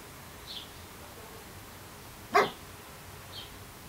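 A single sharp bark from a Shih Tzu rings out fairly close, with faint squeaky sounds before and after against a quiet background.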